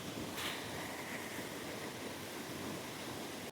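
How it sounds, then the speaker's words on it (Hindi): A river in a hilly farming area rushes strongly, a steady loud broadband roar of fast water that stays even throughout. "नदी बहुत भयंकर आ रही है यार"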